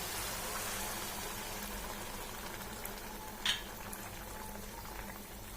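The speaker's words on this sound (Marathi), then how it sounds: "आता आपल्याला गरम पाणी घालायचं याच्यामध्ये" Hot water bubbles and hisses in a pot of cowpeas on the stove, a soft steady simmering texture with one small splash partway through.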